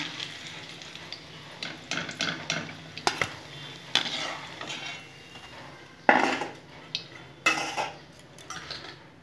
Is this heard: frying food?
yes